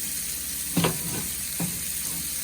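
Red chilies dropped into a pan of frying shrimp for Singapore curry noodles: a constant loud sizzle and hiss throughout, with two brief thuds as the chilies land, close up.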